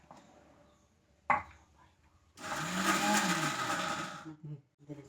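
A mixer grinder runs loud and steady for about two seconds, grinding mango, chili and grated coconut into a chutney, after a sharp knock and some quieter handling noises.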